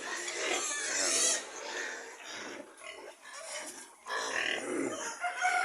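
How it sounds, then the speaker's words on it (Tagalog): Large farm chickens crow and cluck close by in a busy, overlapping chorus, with a few low grunts mixed in and no talking. "Ito mga kabrad yung mga manok natin na iba, malalaki"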